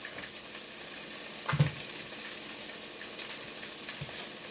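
Vegan butter sizzling with safflower oil in a soup pot, a soft steady frying hiss with a brief louder crackle and pop in the middle, close and moderately quiet, no voices.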